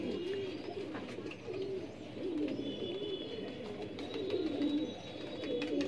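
Rampuri pigeons coo steadily in a flock, repeated low rolling calls over a hum of background noise, with a few faint chirps and no clear speech.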